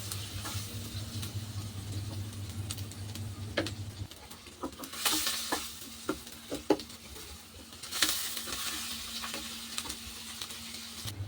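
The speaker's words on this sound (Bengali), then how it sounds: "এই দেখুন পেঁয়াজ আর লঙ্কাটা বেশ আমি ভালো করে ভেজে নিয়েছি" Chopped onion and green chillies sizzle and fry in a pan for bhindi do pyaza, with a steady hiss broken by clinks and scrapes of stirring, and the sizzle eases briefly partway through.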